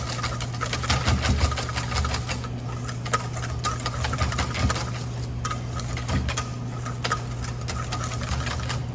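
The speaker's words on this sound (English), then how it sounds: "Keep whipping my cream here." An electric mixer whips cream with a steady mechanical whir and low hum that continues throughout, a few clicks and knocks of the beaters against the bowl scattered through it.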